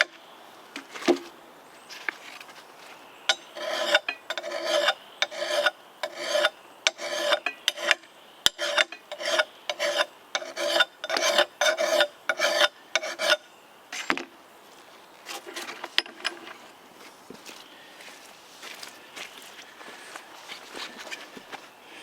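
A file rasps along an axe edge in a steady series of rhythmic forward strokes, close and fairly loud, with the strokes thinning out and growing irregular toward the end.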